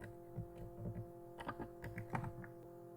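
Keys on a computer keyboard tapped in short irregular bursts of clicks, close and fairly quiet over a steady low electrical hum.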